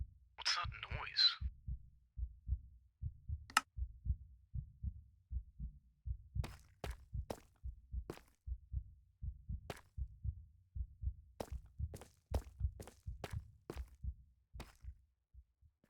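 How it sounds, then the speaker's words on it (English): Low, steady heartbeat-like thumping repeats throughout a video game server maze, joined early by a brief high chirpy burst and scattered sharp clicks over the regular pulse. "they hear this weird, low thumping, almost sounding like a heartbeat of some kind"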